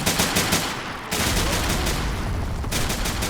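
Sustained heavy gunfire rages throughout a World War II battle in Men of War: Assault Squad, dense overlapping bursts and volleys with a brief lull near one second before the firing resumes at full intensity.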